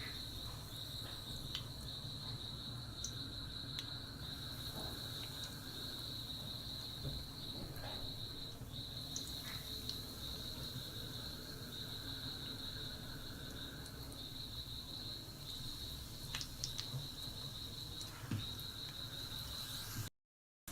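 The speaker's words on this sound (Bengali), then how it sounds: "এখন আমি এটাতে কাটলেটগুলো ভাজবো" Banana flower cutlets fry in hot oil in a wok, a steady continuous sizzle with a bright high hiss holding at the same level throughout, with no talking.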